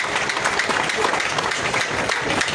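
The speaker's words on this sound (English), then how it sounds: "Please clap for yourselves." A crowd at a political rally claps steadily and densely, loud and continuous throughout, with some indistinct voices mixed in.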